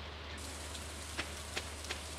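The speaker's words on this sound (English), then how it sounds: "Oh, I forgot it was raining." Steady rainfall in the farming game Stardew Valley, a soft continuous hiss with a low hum beneath and a few faint drip-like taps, quiet and without speech.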